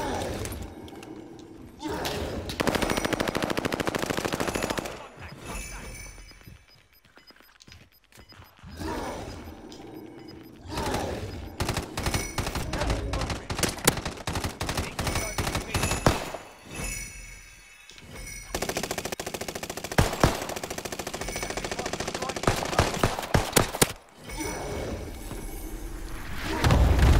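Gunfire in the Call of Duty Warzone video game, with dense, loud bursts of shots, thuds and mechanical clatter running almost continuously and broken by a few short gaps, while voices talk over it.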